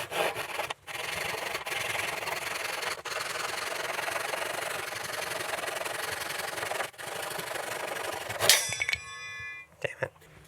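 A saw blade cuts an angled kerf in wood while building a folding sawhorse. A steady, close rasping cut runs for about eight seconds with a few brief breaks, then ends in a short metallic ringing.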